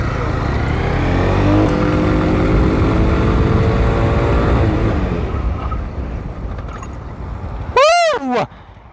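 A Honda CBR 300 motorcycle engine roars loud and close under hard acceleration while riding, its pitch climbing through the revs over heavy wind rush, then easing off, followed by a brief sweeping whistle-like tone near the end.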